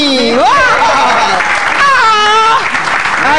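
Studio audience at an Indonesian stand-up comedy battle show claps loudly for a comic, dense steady applause mixed with laughter and a host's excited voice talking over it throughout.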